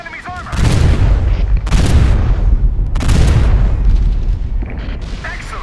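Heavy naval gunfire from a heavy cruiser in a warship video game, repeated booming salvos with rumbling echoes, loud and close, and a few short pauses between the blasts.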